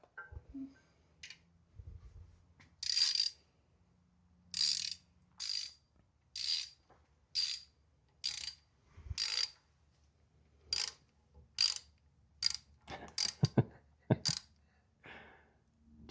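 A ratchet wrench turning a bolt out of a small engine during a Henry J Gasser build, a steady series of crisp clicking strokes, near and distinct, speeding into quick bursts toward the end.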